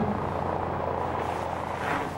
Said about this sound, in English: That noise. It's a plane.